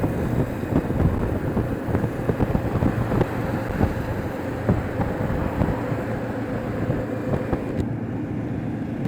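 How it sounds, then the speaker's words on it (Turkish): Steady roaring wind buffeting the microphone while riding a Benelli TRK 702X motorcycle, with an engine rumble underneath and no talking. "Şimdi rüzgar yavaş yavaş vurmaya başladı."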